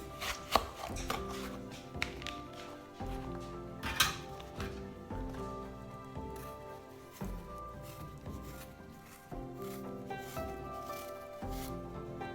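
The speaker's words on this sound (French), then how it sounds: "Tout d'abord, on va vider les pommes" Apples being cored and peeled by hand in a kitchen, a close sequence of irregular cutting and scraping knocks with small thumps, quiet and with no talk.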